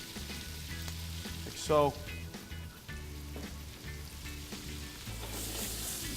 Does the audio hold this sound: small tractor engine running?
no